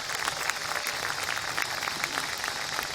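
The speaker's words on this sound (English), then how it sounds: "Give them a round of applause." Audience applause for a community band at a concert, a dense, steady wash of many hands clapping at close range without a break for about three seconds.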